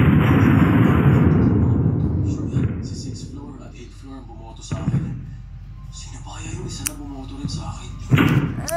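A landmine detonates in a video game, a loud broadband blast at the start that decays over about two seconds, followed by quieter game effects and scattered thumps, with a second sharp impact near the end.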